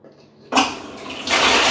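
A burst of rushing, splashing water from a pump fountain starts abruptly and keeps going, growing louder and fuller near the end, close by with no voices.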